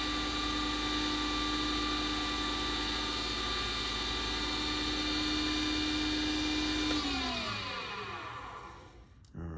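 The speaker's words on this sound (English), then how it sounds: "we will spin the lathe up" A lathe spins steadily with a constant motor hum and whine while finishing a handmade fountain pen of acacia wood and Alumilite resin, then winds down and stops near the end.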